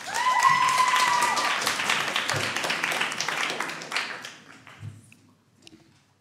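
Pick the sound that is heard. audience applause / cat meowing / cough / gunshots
audience applause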